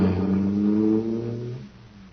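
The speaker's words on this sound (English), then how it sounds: "Boy, that cosmic surface car is really roaring." Roaring engine of a cosmic surface car running on super fuel in an old radio space adventure, a loud sustained drone with steady harmonics that falls off and fades toward the end.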